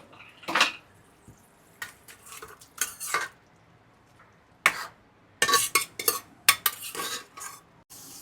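Vegetables for pav bhaji being mashed in a pan, giving repeated metal scraping and clanking strokes in irregular bursts, fairly close and moderately loud with quiet gaps between.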